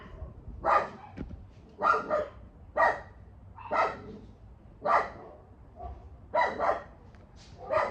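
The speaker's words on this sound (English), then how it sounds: "3 or 4 neighborhood dogs, and the first one starts barking at just something" Several dogs barking in repeated bursts, about eight volleys spaced a second or so apart, with yips mixed in, moderately loud with some distance.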